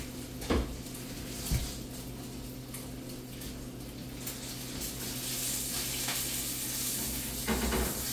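Pork bacon fries in a pan with a steady, close sizzle, while a few sharp clinks and scrapes of a spatula against the pan break through.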